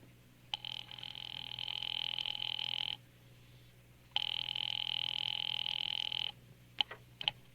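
A telephone rings twice in long electronic trills with a pause between, heard over a quiet line with a faint hum, followed by a click, in a classic radio drama.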